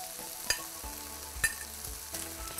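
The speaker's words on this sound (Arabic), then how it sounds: "هلا رح نحط اللي هي الثوم، ورح نحط كمان اللي هو الفطر" Garlic and mushrooms fry in a pan with a soft, steady sizzle, punctuated by a few sharp clicks and scrapes as the food is stirred.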